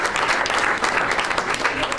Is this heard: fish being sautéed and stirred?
no